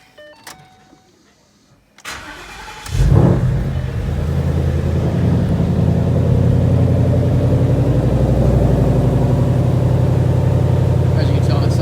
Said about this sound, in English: I'll give you a little cold start with it right now